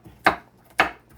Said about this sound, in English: so sorry for the chopping